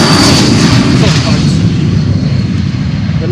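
A C-17 military jet arriving at an airport, heard as a loud, broad engine roar that stays strong close by and eases slightly as it continues, with voices talking over it.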